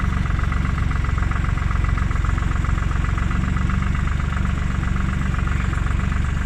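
A Tümosan tractor engine idles steadily and loudly up close, a constant low diesel rumble with a fine regular knock throughout.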